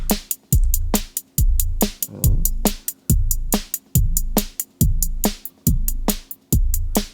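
A synth tone pulses and swells rhythmically as a smooth low-frequency wobble modulates it, over a steady beat of repeating hits.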